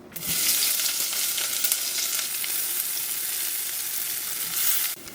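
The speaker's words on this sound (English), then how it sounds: "take your leeks and put it in and have them saute for about 5 minutes until they're softened" Leeks sauté in hot avocado oil in a heavy pot, giving a steady, close sizzle that starts suddenly, holds evenly for about five seconds and then cuts off, with no talking.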